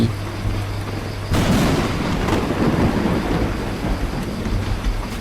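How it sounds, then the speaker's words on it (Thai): Heavy rain pours steadily outdoors along a road, with deep rumbling thunder swelling partway through and a continuous loud wash of noise throughout. "ตอนนี้ฝนตกแล้ว"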